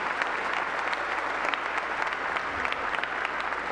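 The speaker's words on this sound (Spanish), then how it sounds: "un aplauso ahora sí a todos los decanatos que aquí nos acompañan" Congregation at a Catholic Mass applauding steadily in a large church, dense sustained clapping from many hands throughout with no break.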